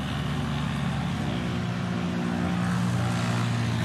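Electric Fox STOL propeller plane flying at the Rocky Mountain STOL Competition, a steady droning engine and propeller hum with a tonal buzz, continuous and moderately near, no talking over it.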